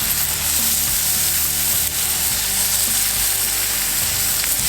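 Halloumi frying in a hot pan gives a loud, close, continuous sizzle with crackling spatter and a low background hum, uninterrupted by talk.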